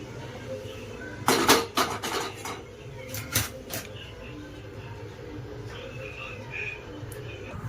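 China grass pudding is poured into a plate, bringing a few brief clinks and scrapes of a vessel against the plate before things settle into quiet room tone.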